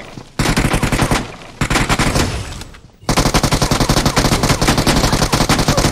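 Rapid automatic gunfire in a video game, loud sustained bursts of shots with two brief pauses, then continuous firing to the end, with faint talk beneath.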